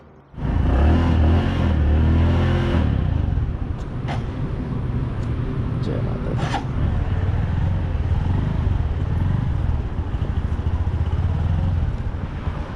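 A Bajaj Platina 110 motorcycle being ridden on a road in Punjab, its engine droning loudly and steadily over wind rush, with a brief spoken phrase near the start.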